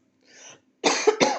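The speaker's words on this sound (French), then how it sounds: "Désolée, je tousse" A faint breathy sound, then two harsh asthmatic coughs from a woman in quick succession, loud and close.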